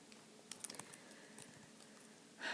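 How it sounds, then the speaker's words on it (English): Quick, light keystrokes on a computer keyboard, a brief flurry of clicks early on and then softer scattered taps, all over a faint steady background hiss. "Let me type it though."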